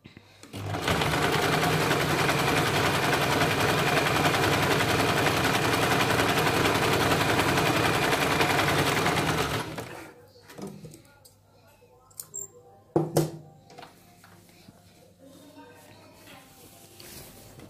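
Sewing machine running a double seam on a salwar, a loud steady whirring run for about nine seconds, then stopping, followed by a few faint handling clicks and knocks.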